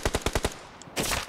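Automatic gunfire in the PUBG Mobile battle royale game on the Livik map: a quick burst of about five sharp shots in even rhythm, then a brief pause and a rougher, denser volley, close and loud.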